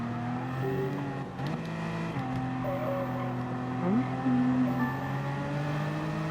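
BMW M4 Gr.4 race car in Gran Turismo 7 lapping Interlagos, its engine droning steadily with rising and falling revs, a brief tire chirp midway, continuous and moderately loud with no talk.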